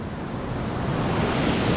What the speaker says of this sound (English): And the waterfall's changed course.